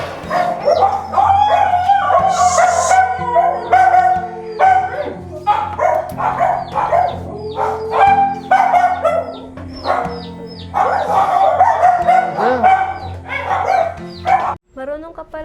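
A dog barks, yips and howls close by in a steady stream of bursts for several seconds, with people talking faintly underneath.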